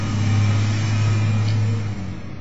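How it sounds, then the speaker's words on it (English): A lorry loaded with empty bottles from a restaurant rumbles past on a London street, a steady loud low engine drone holding throughout and easing off slightly at the end. "that was just a lorry going by with all the empties from a restaurant"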